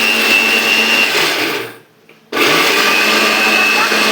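Mixer grinder running loud and steady while grinding a besan ladoo mixture with sugar, cutting off for a brief pause midway before restarting at full power.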